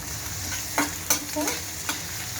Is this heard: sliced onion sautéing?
yes